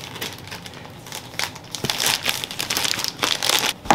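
Packaging crinkles and rustles up close as a box of yarn-making supplies is cut into and unwrapped, a busy stream of crackly crumpling bursts that grows denser and louder toward the end, with no talk over it.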